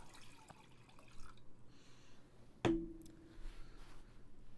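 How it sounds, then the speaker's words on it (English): Water is poured to top off a drink, with a brief splashing pour followed by a sharp clink of the vessel, in a quiet room with faint background noise. "Need to top off on my water here."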